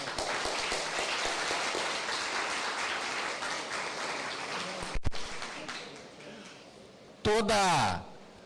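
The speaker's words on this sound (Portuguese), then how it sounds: "Uma salva de palmas." Steady applause from a congress audience fills most of the clip, fading out, before a brief loud voice breaks in near the end.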